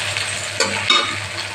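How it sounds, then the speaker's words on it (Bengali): Potatoes frying in a pan with eggplant, capsicum and radish for a fish-head pumpkin ghonto, producing a close, loud hiss with a couple of stirring scrapes. "আলুটা একটু ভাজা হয়ে আসে।"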